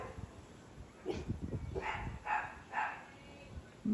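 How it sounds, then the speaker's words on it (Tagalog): A dog barks threateningly outside a house, a few rough barks and yips in short bursts, moderately distant and fairly faint, with no talking. "Nagbabanta yung aso."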